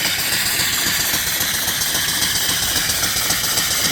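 A vertical steam engine with a flyball governor, Swift oiler and belt tensioner runs steadily, its rapid rhythmic chuffing and mechanical clatter filling the space at close range with a constant hiss and no voices.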